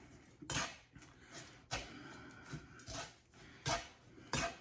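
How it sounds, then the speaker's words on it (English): Braciola filling with anchovies being stirred in a bowl: a series of spaced, clinking utensil scrapes and knocks, about eight in under five seconds, faint and close, with no talking. "So I'm just gonna give this a mix here."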